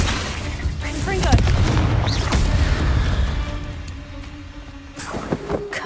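A blasting spell in Hogwarts Legacy sets off loud booming explosions with crackling debris and a rumbling tail, layered over continuous game battle noise.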